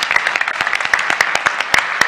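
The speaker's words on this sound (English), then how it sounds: "Big round of applause for Ubu." Conference audience applauds a presenting team, a dense, steady burst of many hands clapping, loud and close, with no talk over it.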